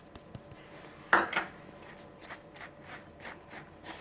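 Spoon scraping and clinking against a bowl or pot while asafoetida and methi powder are stirred into homemade Kerala-style mango pickle, one sharp clatter followed by quieter intermittent scrapes.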